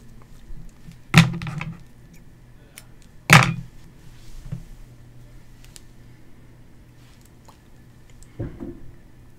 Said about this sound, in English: We got lots of fireworks going off.